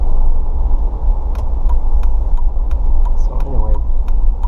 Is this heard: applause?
no